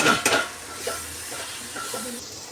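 Spoon stirring turmeric and red chilli powder into a simmering fish curry in a pot, with a few scraping clinks of metal on the pan at the start over a steady low sizzle.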